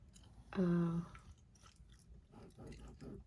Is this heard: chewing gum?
yes